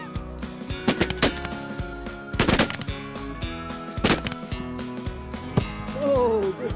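Shotgun blasts during a goose and duck hunt ring out as several loud, sharp reports spaced a second or two apart, with a hunter's voice and outdoor noise between them.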